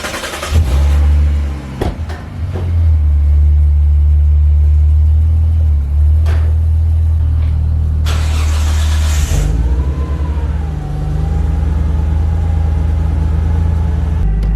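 A Nissan Skyline engine cranks and fires up, then holds a loud, steady low rumble with bursts of revving partway through, close and dominant with no talk over it.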